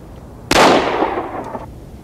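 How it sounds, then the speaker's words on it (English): A revolver fired once at a target in firearms training, a single loud, close shot with a sharp crack followed by a decaying echo. "Aim for the middle of the target and fire when ready."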